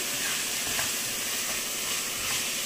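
Moringa leaves fry in a pan with a steady, close hiss and sizzle, an even, unbroken texture throughout.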